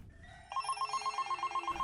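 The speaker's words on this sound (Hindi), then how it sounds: "तभी उसका फोन बज उठता है" A phone ringing with a rapid, steady electronic trill that starts softly and then grows louder and repeats evenly for nearly two seconds, heard alone without talk.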